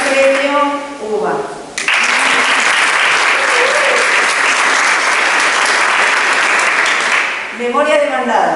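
Sustained audience applause at a university environmental arbitration competition prize ceremony, a loud even roar of clapping that begins after a speaking voice and gives way to speech again at the end.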